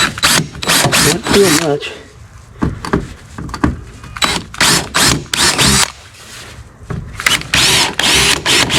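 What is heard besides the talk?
power drill drilling holes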